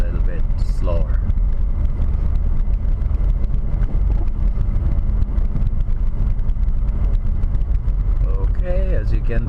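A car rolls at about 30 km/h over a snow-covered road in winter, its low engine and tire rumble steady and close from inside the cabin, with a voice talking over it.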